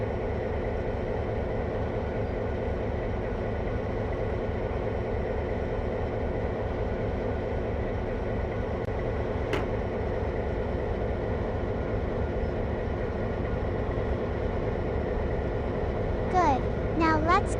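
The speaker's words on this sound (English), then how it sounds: "Train's coming. Better release those brakes so it can pick up speed." A train locomotive rumbles with a steady rhythmic chugging, close and continuous, while a voice talks over it and a whistle-like chirp appears near the end.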